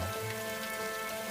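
Heavy rain pouring steadily in a dense, even hiss with no breaks and no voices.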